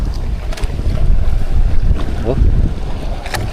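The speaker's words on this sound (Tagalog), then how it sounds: "Amihan tong hangin na to, amihan." Strong northeast monsoon wind buffets a small boat out on the open sea, a steady loud roar of wind noise and water over a tuna fishing trip, with a brief spoken exclamation.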